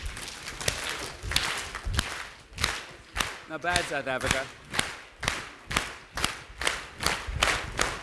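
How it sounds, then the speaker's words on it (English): An audience clapping together in a slow, steady rhythm, sharp loud claps spaced about half a second apart, with a voice speaking and a brief melodic vocal passage among them. "Slow clap."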